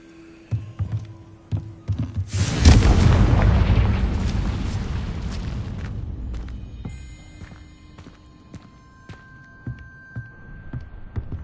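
Confringo blasting spell going off in the Hogwarts Legacy video game, a sudden loud boom followed by a long rumbling decay, with scattered clicks and light footstep-like sounds around it.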